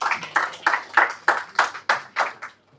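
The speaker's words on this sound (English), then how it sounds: "Can we have a round of applause for him once again?" Audience at an entrepreneurship and social change session applauding in slow, rhythmic unison claps, about nine evenly spaced beats that taper off and stop.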